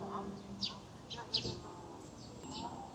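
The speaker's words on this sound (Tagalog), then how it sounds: "Narinig niyo guys yung mga ibon." Birds chirp in short, scattered calls near the lotus pond of Nan Lian Garden in Hong Kong, light and somewhat distant over faint ambient background.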